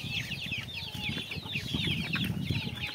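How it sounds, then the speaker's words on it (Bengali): Desi chickens clucking and chirping while eating sprouted rice, a busy chorus of overlapping short calls close by, with scratching and soft rustling beneath. "এখন এগুলো মুরগিগুলোকে খেতে দেবো"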